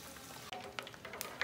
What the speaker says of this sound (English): I'm going to fry the tomato and onion in the palm oil